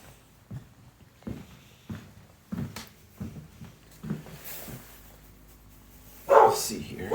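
A dog kept in a kennel inside a house entryway gives a few short barks and yips, spaced irregularly, followed by a louder whimpering or yelping burst near the end, with faint movement between.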